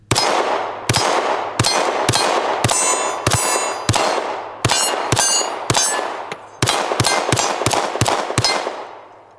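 Rounds from a new Glock V pistol, fired during a 1000-round torture test, strike steel targets in rapid bursts. Each shot is loud, close and sharp, with a ringing metallic clang that decays between shots, and no one talks.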